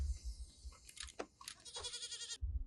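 A goat named Emil bleats in a scene from the series Severance, with several wavering cries rising over low background rumble and scattered clicks before a sudden cut.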